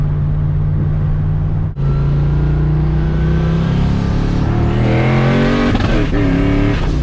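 A turbocharged car accelerates hard under boost with a no-lift shift into third gear: a loud, close engine roar climbs in pitch, breaks briefly at the shift, then keeps pulling and rising.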